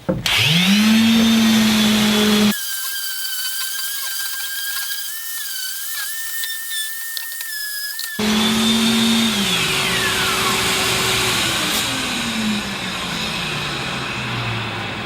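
Power sander working on a birch plywood surface, a loud steady motor whine that drops away mid-clip to a quieter high tone, then returns and winds down with a falling pitch.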